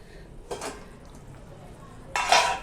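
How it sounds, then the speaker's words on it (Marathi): A metal lid clanks twice against a pot of cooking sugar mango made from grated raw mango: a short knock first, then a louder scraping clatter as the lid comes off, over a quiet background. "आपण झाकण काढून बघूया झाकण मी काढते"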